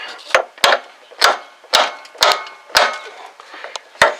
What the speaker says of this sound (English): Take my hammer and tap it just a little bit there.